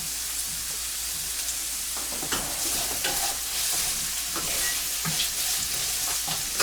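Raw carrots and other vegetables for pasta primavera sizzle in a pan over a flame set a little above medium, a steady crackling hiss broken by soft scrapes and stirs, moderately quiet and without talk.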